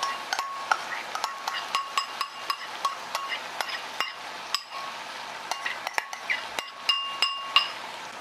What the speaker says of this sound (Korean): 소스를 넣고 이거를 잘 섞어줍니다. 잘 섞어줘요. 골고루 오징어에 소스가 묻게.